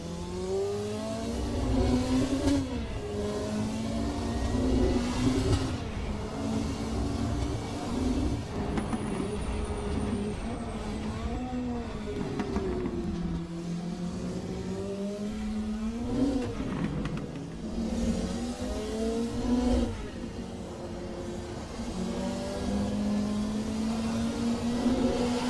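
Race car engines roaring around the Zolder circuit in a racing video game, a loud continuous drone that repeatedly climbs through the gears, drops and climbs again, with a brief high whine partway through.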